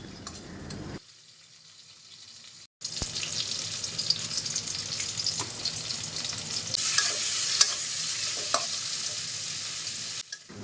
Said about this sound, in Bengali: পেঁয়াজ রসুনটাকে আমি একটু ভালো করে ভেজে নিচ্ছি